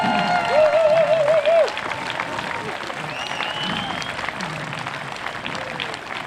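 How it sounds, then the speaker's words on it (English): A cross-border rally crowd at Peace Arch applauds a speaker taking the stage, a loud, sustained burst of clapping and cheering that eases slightly after the first seconds, with a whistle near the start. "give a round warm applause for Alexandra Woodsworth"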